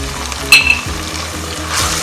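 Chili powder is stirred into Nellore-style fish curry frying in a pan, giving a loud, continuous sizzle with a bright scrape and clink of the spoon partway through.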